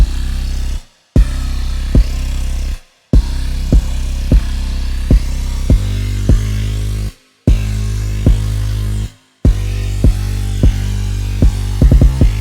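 Booming 808 from Rio's drum kit layered with a dirty, distorted Serum synth bass, drenched in reverb, playing a loud repeating rage-beat pattern with sharp hits and brief dropouts, no voices.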